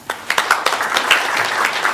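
An audience claps in steady applause at a civic sister city announcement, a dense run of overlapping hand claps at close range with no talking.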